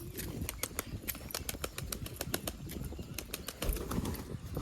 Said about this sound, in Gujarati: તો મિત્રો બધા કબૂતરા આવી ગયા નીચે